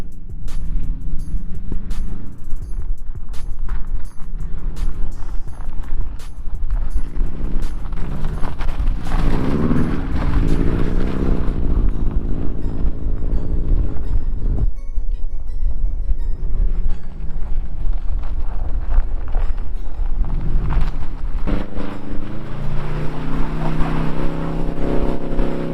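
A car drifts and spins across an ice surface with handbrake pops, its engine droning loud and continuous while tires scrub the ice, the pitch rising and falling as it slides around, with no talking.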